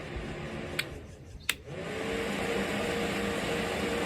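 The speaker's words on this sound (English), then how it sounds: "This is the Ryobi 18-volt fan. It's got 2 speeds on it. This thing really blows out some air" A Ryobi 18-volt battery-powered fan runs with a steady broadband whoosh of moving air, growing slightly louder after a couple of faint clicks, with no voices present.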